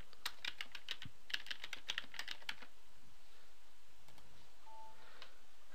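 Keys clatter on a computer keyboard in a quick burst of close, crisp clicks during the opening half, then a few scattered taps against a quiet room.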